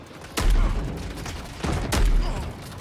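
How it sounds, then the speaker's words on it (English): Two heavy shotgun blasts in the video game Modern Warfare II, each a loud, sharp boom followed by a rumbling tail, spaced about a second and a half apart. "Ooh, shotgun."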